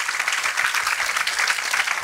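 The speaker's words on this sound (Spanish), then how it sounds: "¿Por qué no da un aplauso al Señor en esta mañana?" A church congregation applauds on a Sunday morning, a dense, even wash of many hands clapping together, fairly close and sustained through the whole moment with no voices standing out.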